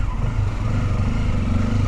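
A Hero Xtreme 125R motorcycle riding on the road, a loud, steady engine drone with rumbling low tones and wind noise, heard close and continuous.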